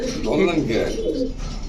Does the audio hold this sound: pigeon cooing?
yes